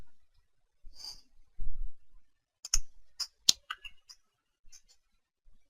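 Several sharp, quiet mouse clicks on a computer's next-page button, scattered irregularly with short gaps, close and dry with no talking.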